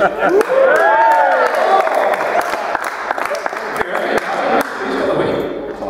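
Studio audience at a cricket show cheering with whoops and clapping, loud and close at first, then settling into scattered claps and crowd chatter.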